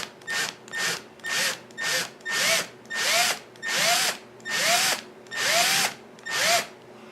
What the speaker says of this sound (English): get that hole drilled in there